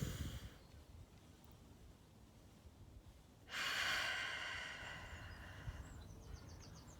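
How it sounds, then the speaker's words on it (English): Partway through, a deep breath is drawn in, a close, airy inhalation that swells abruptly and tapers off slowly against a quiet background hiss. "I invite you to take another breath in."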